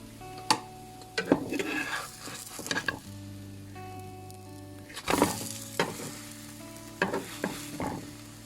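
Oatmeal pancake batter sizzles softly in a frying pan, with intermittent scrapes and taps of a utensil against the pan over a steady low hum.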